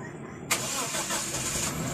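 A car engine idles with the air conditioning switched on, a steady mid-level engine hum that steps up abruptly as the compressor kicks in, continuing evenly afterward.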